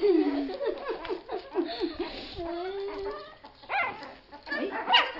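Several puppies yip and bark in quick, high-pitched bursts, close by and overlapping, with whimpery squeals mixed in.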